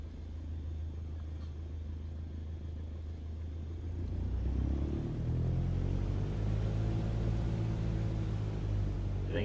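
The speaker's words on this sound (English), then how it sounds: "Now, gently increase throttle to get the aircraft moving." An aircraft engine in Flight Simulator being throttled up from idle to taxi, a low steady drone that swells into a louder, fuller rumble about midway and then holds, with no voices.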